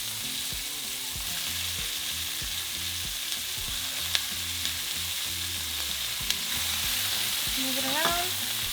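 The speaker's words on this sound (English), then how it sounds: "we're going to throw in our onion." Chopped onion and nopales frying in a pan right after pork chops were seared, a steady close sizzle with occasional light scrapes and stirring clicks, no talk.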